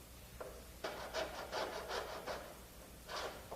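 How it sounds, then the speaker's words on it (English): A shallow-set spoke shave smooths wooden quarter knees on a boat, giving a series of soft, rhythmic scraping strokes near and quiet, with short pauses between them. "A spoke shave set shallow does the job."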